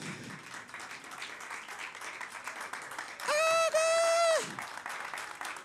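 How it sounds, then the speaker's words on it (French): Audience applause at a stand-up comedy festival show, steady clapping under a speaking voice, with a loud sustained tonal burst cutting through midway before the clapping carries on. "applaudissez aussi pour vous-même."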